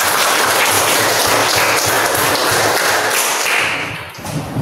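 Students in a school physical education lesson clap their hands for a classmate, a dense, steady patter of many hands that stays loud, then thins slightly near the end.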